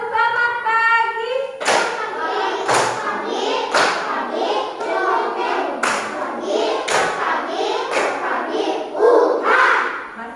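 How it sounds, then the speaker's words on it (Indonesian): A class of children claps hands together in a morning clapping routine, several bursts of sharp group claps in rhythm, with a teacher's voice and children chanting between them. "Tepuk tangan pagi."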